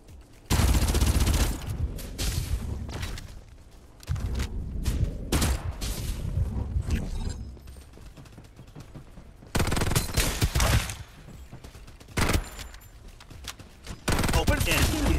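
Gunfire rattles through a Farlight 84 duos match in loud bursts of automatic fire and separate shots, broken by short quieter gaps, with voice lines heard between the bursts.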